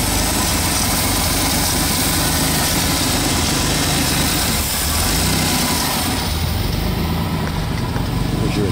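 A six-cylinder engine in a 1986 Zimmer Quicksilver idles nearby with a steady low rumble and vibration, loud and unbroken, with no voices.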